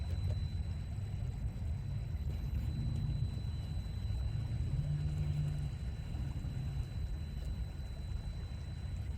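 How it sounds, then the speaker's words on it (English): A brushed Injora motor drives an Ascent 18 RC scout crawler outdoors, giving a steady low hum and rumble throughout with slight shifts in pitch as it crawls slowly. "Even this brushed Injora motor, it has very good low speed control."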